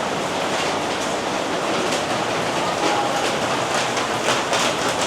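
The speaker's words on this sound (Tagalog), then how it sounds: "Ay, ang lakas ng ulan, guys." Heavy rain falling outdoors at a hostel in Cambodia beside a swimming pool: a steady, dense roaring hiss that stays loud and even throughout, with no talk over it.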